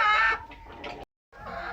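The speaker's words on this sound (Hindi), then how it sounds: "वो मुर्गी पकड़ ली है अपने फार्म से जो कि हफ्ते में एक बार अंडा देती है।" A hen on a poultry farm clucks in short, close bursts, a couple of quick calls with a brief silent gap between them.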